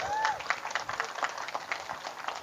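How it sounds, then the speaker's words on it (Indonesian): Scattered clapping from an audience at a vocational school graduation send-off, uneven and thin with individual claps standing out over a brief moment, while a voice briefly rises at the start. "Tepuk tangan."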